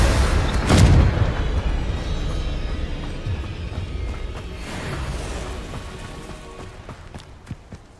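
A Confringo spell explosion in the video game Hogwarts Legacy: one heavy boom with a sharp onset, followed by a long, rumbling, noisy tail of debris and ambience.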